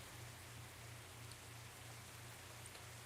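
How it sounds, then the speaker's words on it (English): Steady rain falls in the Moves Away video game, a soft continuous hiss with a low patter running unbroken and fairly faint throughout. "It's raining through my box."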